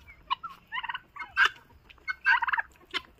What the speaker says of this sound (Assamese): এইবিলাক হৈছে আমেৰিকান ৰয়েল টাৰ্কি।